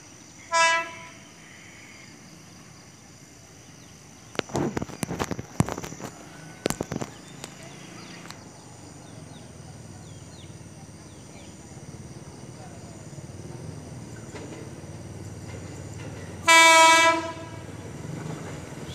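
JR 205 series KRL commuter train, set 205-61, at a trackside setting with a short horn blast near the start and a louder, longer horn toward the end, with clattering bursts and low rolling rumble in between.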